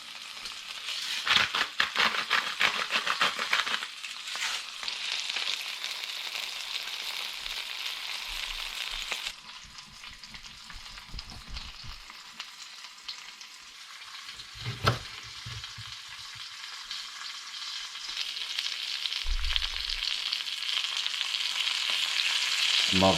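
Stuffed squid fries in a hot pan, a continuous close bright sizzle with crackles, occasional soft thumps and scrapes as the pieces are flipped, no voices.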